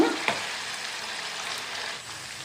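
Chicken pieces for gongura pickle fry in a pan to a golden colour, giving an even, close crackling sizzle with a light stir near the start.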